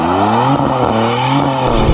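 A BMW engine held at full throttle during a line-lock burnout gives a loud, sustained, droning roar with steady harmonic tones and slight pitch wavering, close up and continuous.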